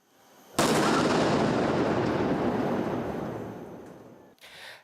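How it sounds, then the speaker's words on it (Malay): A 100 kg World War II-era bomb is destroyed in a controlled detonation by a military explosive disposal team: one sudden deep blast is followed by a long, heavy rumble that slowly fades over several seconds. "bom era Perang Dunia Kedua seberat 100 kilogram itu berjaya dilupuskan dalam dua letupan terkawal"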